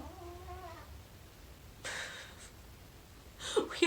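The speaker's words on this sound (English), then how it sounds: "We have one cat that's super friendly, super vocal, and super whatever this nonsense is." A very vocal pet cat gives a short, faint meow-like cry, then a few louder strained vocal bursts toward the end, heard alone in a quiet room.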